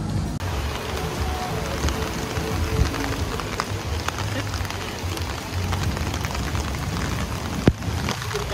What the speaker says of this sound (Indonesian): Jadi kenapa kita pakai payung? Banjir. Karena hujan.